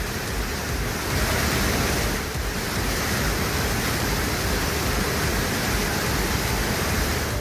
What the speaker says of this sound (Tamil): கோடை விடுமுறையை கொண்டாட ஒகேனக்கல் அருவியில் குவிந்த சுற்றுலா பயணிகள் குடும்பத்துடன் பரிசலில் பயணம் செய்து மகிழ்ந்தனர்